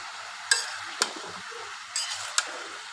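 Pumpkin curry with Malabar spinach, panch phoron spice, salt and green chillies being stirred in a pan, a soft fry under a few sharp metal spoon clinks against the pan, close and otherwise quiet.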